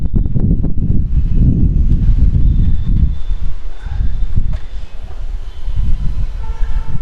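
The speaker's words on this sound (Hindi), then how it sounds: "बारिश बहुत हो रही है, बहुत तेज़ हवा चल रही है" Heavy rain and strong wind outdoors buffet the microphone in loud rumbling gusts, with a continuous rushing roar that rises and falls.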